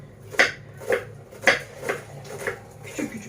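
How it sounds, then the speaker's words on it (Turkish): A knife chopping onions on a board, six or so evenly spaced thuds at a steady rhythm, close by. "Soğanları doğruyorum. Hani bütün soğanları doğruyorum."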